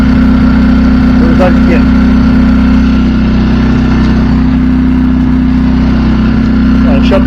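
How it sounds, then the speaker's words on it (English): A Champion generator running on propane drones loudly and steadily up close, a constant low engine hum with a strong fundamental, while someone speaks briefly over it. "I'll shut the generator off."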